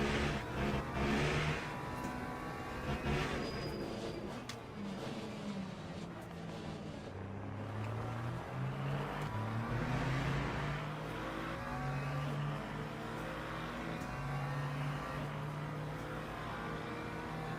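A McLaren GT3 race car in a sim racing game at Circuit of the Americas climbs through the gears with rising engine tones, shifting and revving continuously at moderate volume.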